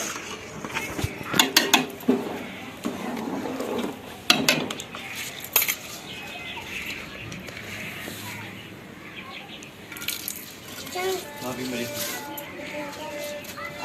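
A spoon stirs rice in a pot of boiling water during village cooking for guests, giving sharp metallic clinks and scrapes in clusters, with someone talking over much of it.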